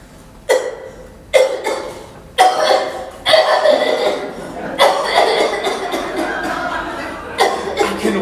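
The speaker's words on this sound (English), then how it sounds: "I have this racking cough." A performer on a theatre stage gives a racking cough in a comedy scene, several harsh, close bursts of coughing and throat-clearing that run into longer wheezing fits with chuckle-like sounds.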